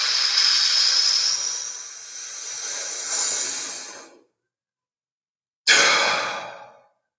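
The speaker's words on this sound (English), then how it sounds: "Let's start our first inhale." A deep, drawn-out inhale and exhale during a contraction breathing exercise, close and breathy for about four seconds, then a pause before another sharp breath that trails off.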